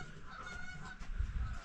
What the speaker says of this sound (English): here comes geese by